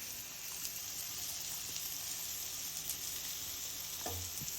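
Soya balls frying in a pan give off a steady, even sizzling hiss throughout, with a brief utensil clink near the end.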